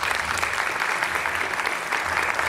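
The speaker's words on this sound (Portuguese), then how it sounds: "Uma salva de palmas para ela." Steady, dense applause from a lecture audience welcoming a speaker to the podium, a continuous clatter of many hands that fills the whole stretch without pause.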